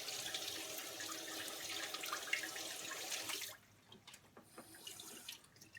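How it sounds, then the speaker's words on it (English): Water runs steadily from a tap for a few seconds while hands are washed at a sink, then cuts off, leaving faint drips and small splashes. "And now I'll wash my hands up."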